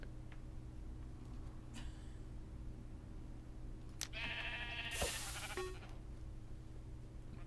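A single Minecraft sheep bleats once, a short wavering cry over a low steady hum, preceded by faint clicks.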